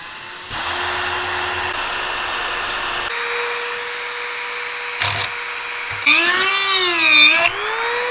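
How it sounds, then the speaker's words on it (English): A power drill bores out a hole in a C3 Corvette hood part, a close, loud whine that holds steady, shifts pitch as it bites, pauses briefly, then rises and wavers under load. "So we got to drill this one out."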